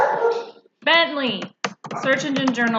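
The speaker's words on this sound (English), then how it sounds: "sorry, that was my dog" A pet dog barks indoors in a few short, sharp bursts close by, mixed in with someone talking at a computer.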